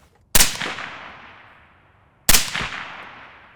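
Two sharp, loud gunshots about two seconds apart, each with a decaying echo, fired at a target about 15 yards away while sighting in a gun with a red dot sight.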